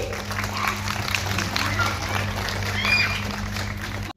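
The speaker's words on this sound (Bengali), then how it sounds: "একটু জোরে হাততালি" An audience claps steadily through an award ceremony as honorees are presented with mementos. The dense, moderately loud applause runs throughout over a low hum, then stops abruptly.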